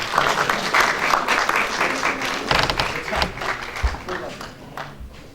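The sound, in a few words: audience applause after a play performance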